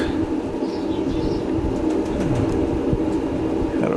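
A pigeon heard outdoors in fine weather, giving faint cooing and bird calls over a steady background rumble, with no talking.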